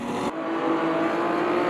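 Opala 79 race car engine in the Automobilista 2 racing game, a steady loud drone holding a sustained note as the car slides its tail out through a corner at Londrina.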